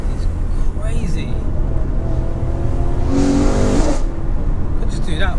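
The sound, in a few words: GTS car accelerating with rapid gear shifts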